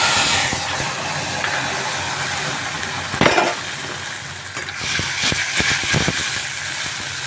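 A ginger-chili-tomato paste sizzles and hisses steadily in hot oil in a pan, loud and close, with scraping stirs and clinks breaking through the frying.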